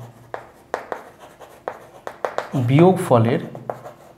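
A pen scratches and taps out digits while solving a decimal subtraction in a Class 6 maths lesson, giving short, regular strokes beneath a man's continuous explanatory speech.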